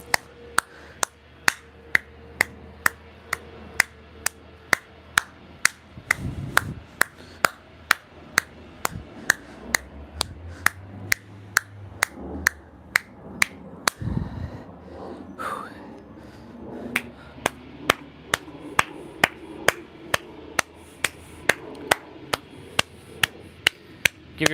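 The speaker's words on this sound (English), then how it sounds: "when you start clapping" Single sharp claps repeat at an even, quick beat through the whole stretch, with only a short pause. The claps are crisp and close, with soft breathing and murmuring in between.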